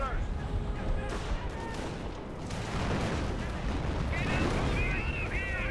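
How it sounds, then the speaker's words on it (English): Artillery fire in the World War II strategy game Company of Heroes, repeated booming blasts and crackling gunfire in a dense battle mix, with a voice talking over it. "Some sort of artillery being brought in."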